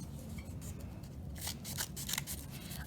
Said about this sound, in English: cut with good craftsmanship, which means cutting on the lines, taking your time, cutting smoothly so there's no rough edges